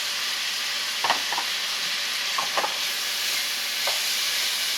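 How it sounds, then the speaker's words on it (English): Onions and peppers sauté in a pan with a continuous hiss and sizzle, broken by a few scraping stirs of a utensil. "saute these until the onions get caramelized and the peppers get cooked through and get softened"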